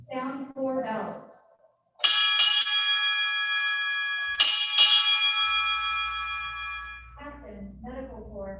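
Ship's bell rung four times at a United States Navy retirement ceremony, struck in two quick pairs with clear, ringing tones that sustain between strikes; a voice is heard before and after the bells.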